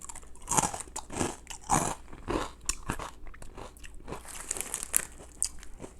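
Loud, close crunching of a hard, crab-flavoured Ukrainian snack, bite after bite in an irregular rhythm, with no talking.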